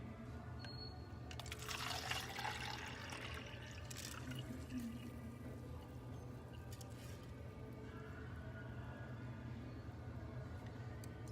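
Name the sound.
fermented rice water poured through strainer into cup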